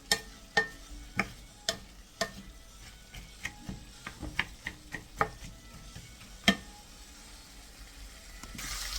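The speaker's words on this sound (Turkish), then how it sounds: "Önce şöyle soğanla biberim bir güzel kavrulsun" Onions and peppers sauté in a pan as a faint frying hiss sits under repeated sharp taps and scrapes of a spatula, spaced irregularly and close.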